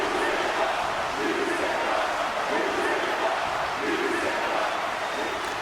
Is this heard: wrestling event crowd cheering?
yes